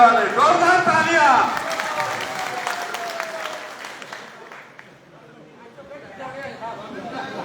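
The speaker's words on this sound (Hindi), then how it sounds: "जोरदार तालियां" Crowd applause at a Congress party rally over farmers' demands, with loud clapping at the start that thins and fades under murmuring chatter and a voice speaking over the crowd.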